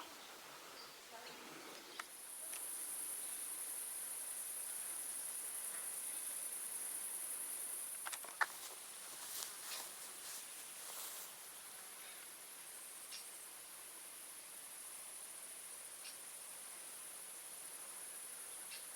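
Insects chirp in a continuous high-pitched drone, crickets buzzing steadily at a faint, distant level over a quiet outdoor background with a few soft rustles, in a Creuse river valley in summer.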